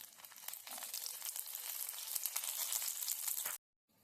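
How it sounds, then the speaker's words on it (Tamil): Cashews and raisins fry in a little ghee with a steady, bright sizzle lasting about three and a half seconds, then cut off abruptly into silence. "இந்த முந்திரி திராட்சை போட்டு வறுத்து எடுத்துக்கலாம்."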